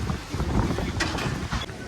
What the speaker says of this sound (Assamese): ইমানেই জোৰ জোৰকৈ বতাহ দি আছে